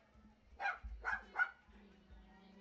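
A dog barks three times in quick succession at a softball or baseball game, fairly faint and distant over low crowd and field ambience.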